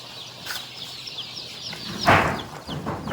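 Young Rhode Island Red layer chicks at a hatchery peeping and clucking in soft, scattered calls, with one louder burst partway through, fairly close and otherwise quiet.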